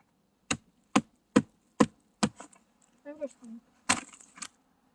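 A Zune Lotoo Cross Border knife chops with five sharp, evenly spaced strikes on a board, close and crisp, followed by brief talk and one more loud chop.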